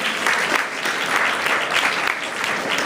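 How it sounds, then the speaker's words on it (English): Loud, dense applause fills a student model UN general assembly hall after a UNICEF resolution, many hands clapping in a steady, unbroken roar. "Another round of applause for such a well-worked resolution."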